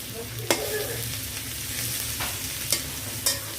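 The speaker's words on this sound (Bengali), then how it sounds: "ভালো করে নেড়ে চেড়ে ভেজে নিতে হবে" Fish fries in a pan under a steady close sizzle, with three sharp scraping spatula strokes spaced a second or two apart; no talking.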